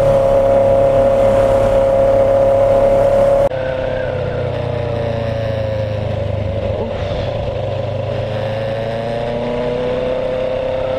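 A motorbike engine pulls hard in first gear, a loud, steady tonal drone that shifts pitch slightly as the revs change, heard up close with wind rush and no talking.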